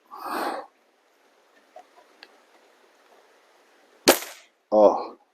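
An FWB 124 air rifle fitted with a tune kit fires one sharp, close shot, with faint sounds and brief breathy noises before and after.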